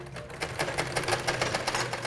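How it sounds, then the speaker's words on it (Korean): A sewing machine runs steadily up close, its needle clattering in rapid bursts with a low motor hum underneath. "아이들을 학교에 보낸 집에선 재봉틀 소리가 가득합니다."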